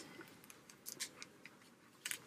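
Scissors poke into and snip through paper, a handful of faint, sharp crisp clicks and cuts spaced irregularly over a quiet background.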